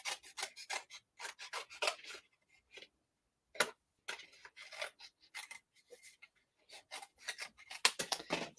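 Scissors trimming die-cut paper pieces for crafting, a close series of crisp snipping strokes in quick clusters with short quiet pauses between.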